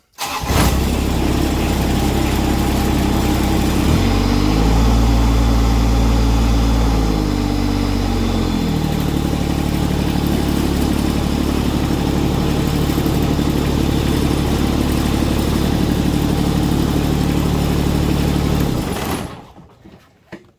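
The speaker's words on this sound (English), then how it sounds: "So I'm gonna start it up." A John Deere X595 garden tractor engine cranks and catches, runs with a brief rise in revs, settles into a steady idle, then cuts off near the end.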